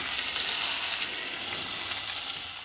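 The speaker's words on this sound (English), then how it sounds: "Definitely getting the crispiness on the spam now, which is just what we need." Spam fries on an old pitch-melting shovel, giving a steady, close, bright sizzle and crackle of hot fat that fades a little toward the end, with no voices.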